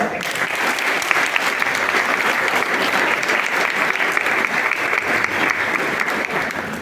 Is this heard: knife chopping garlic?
no